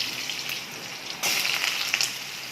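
Pieces of pointed gourd dropped into hot oil with five-spice tempering: a low crackle jumps suddenly into a loud, bright, hissing sizzle that holds with small pops, close by.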